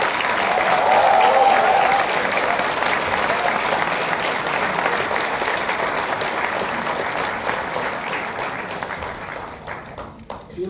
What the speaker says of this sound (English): So can we all give them a round of applause?